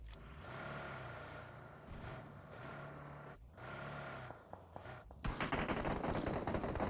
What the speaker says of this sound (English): And shots have been fired